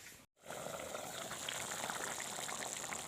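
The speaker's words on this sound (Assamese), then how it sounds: "কাঢ়ি উতলি আহিল।" Mutton curry in a covered pot with added water bubbles and burbles at a rolling boil, a steady close hiss after a brief moment of silence at the start.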